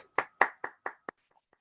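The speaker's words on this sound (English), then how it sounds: "I just want to give a round of applause to all the presenters." One person claps five times in an even rhythm, close to the microphone, to thank presenters at the end of a state government Tableau user group meeting. Faint sounds follow the claps.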